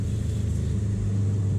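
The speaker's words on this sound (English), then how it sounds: "Love the way the exhaust sounds." Steady low exhaust rumble from a 2015-20 car with a Bader Built block and FP Black turbo, heard from inside while driving, continuous and close with no pops or talk.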